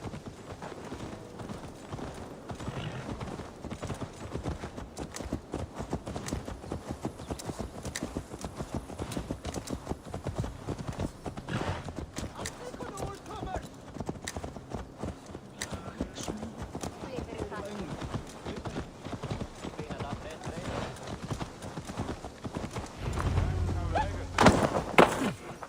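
Horse hooves clip-clop steadily on the ground in the Assassin's Creed Valhalla video game, a continuous, fairly loud rhythmic trot beneath voices talking, with a louder burst near the end.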